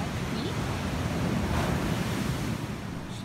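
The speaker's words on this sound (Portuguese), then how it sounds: "O mar tá bem agitado." Rough sea pounding Toninhas beach in Ubatuba during rain, a loud continuous roar of crashing waves with wind buffeting the microphone and a voice faintly beneath.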